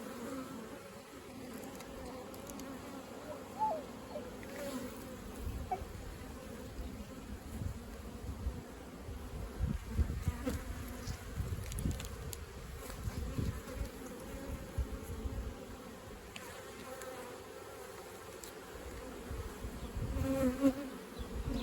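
Honey bees buzzing around their hives during a hive inspection, a steady humming swarm with individual bees droning close by and passing, continuous for the whole stretch with no talk.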